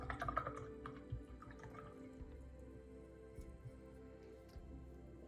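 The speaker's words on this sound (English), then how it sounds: "I'm gonna take my paintbrush and I'm gonna wash it off" A paintbrush being rinsed off in a cup of water: faint, sparse drips and small taps and clicks close by, quiet and without any talking.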